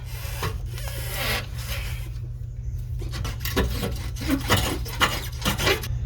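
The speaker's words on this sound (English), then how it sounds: "I might actually be able to pull that out of here." Worn lower control arm bushing on a 2010-2014 Ford Taurus being pulled and worked out by hand, giving a close, rough rubbing and rasping scrape with uneven repeated strokes and no talking.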